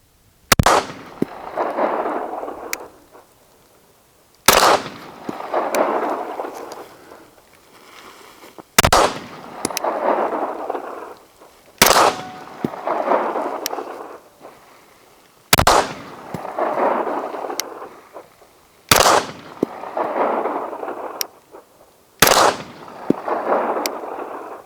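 Seven sharp, loud shots from a factory Smith & Wesson M&P Carry Comp pistol fired at an outdoor range at 20 yards, evenly spaced about every three to four seconds, each crack followed by a rolling echo that fades before the next.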